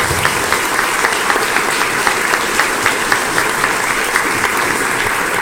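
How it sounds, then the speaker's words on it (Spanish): Loud, close audience applause at a discussion forum, a thick steady roar of clapping hands with faint individual claps poking through, sustained evenly from start to finish. "entonces un aplauso a todos"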